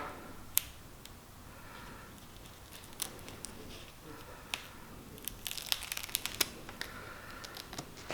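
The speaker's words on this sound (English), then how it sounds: "And then we're take the tape off." Tape backing is peeled off a Honda Pioneer 520 soft door during a 2022 install, giving scattered crisp crackles, ticks and tearing snaps that come close and grow busier toward the end.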